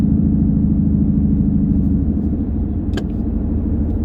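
A 2019 Mustang GT's engine hums steadily at highway cruising speed, low and even, as the 10R80 automatic transmission settles into tenth gear in normal mode, with a faint brief click partway through.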